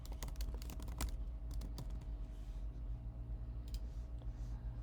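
Computer keyboard keys are pressed in a quick cluster of sharp clicks, followed by a pause and a couple more taps, close and fairly quiet over a low room hum.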